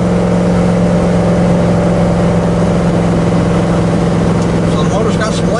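The engine of a 1966 Chevrolet Chevelle roars loud and close in a steady, throaty drone under strong load, heard from inside the moving car.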